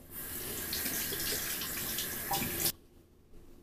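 Water runs steadily from a bathroom faucet into a sink during face washing, a close, continuous splashing stream that cuts off abruptly near the end, leaving quiet.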